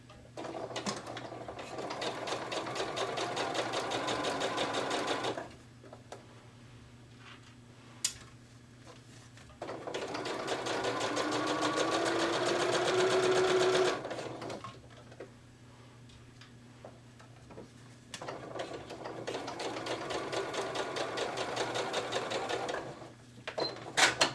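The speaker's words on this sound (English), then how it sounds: "Then I'm going to put it back down and go ahead and sew on to the end." A sewing machine stitches a CD pouch in three loud, even bursts of rapid mechanical whirring, separated by quiet pauses, with the last run ending in a few sharp clicks.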